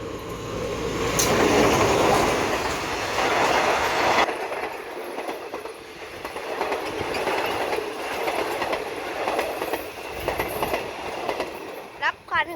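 A Thai passenger train, number 258 from Nam Tok to Thonburi, rumbles past close by at a level crossing, wheels clattering over the rails, then the noise fades and thins out as it moves away.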